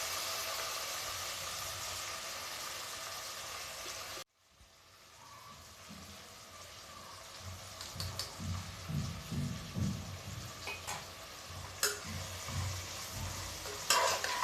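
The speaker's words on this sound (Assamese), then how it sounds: "মছলাখিনি মিক্স কৰি দিছোঁ ইয়াত।" Sambar masala is stirred into a hot pan of sizzling sambar, with steady frying hiss, then a pause followed by scraping and stirring strokes over a softer sizzle, close by.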